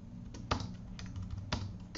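A computer keyboard clacks softly in a quiet room as a Linux command is entered, a few isolated keystrokes with the strongest presses spaced about a second apart.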